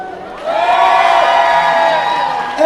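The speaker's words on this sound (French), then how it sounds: "Maintenant, je vous demande déjà de crier pour eux" A convention audience at a Montpellier fan event cheers, whoops and shouts together in a loud, sustained roar that swells after a brief lull and holds steady, with a fresh burst rising at the end.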